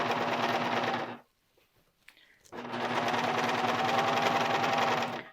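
A sewing machine stitches a long sleeve in two sustained runs, with a brief pause between them. The motor whirs loudly and steadily, with no talk.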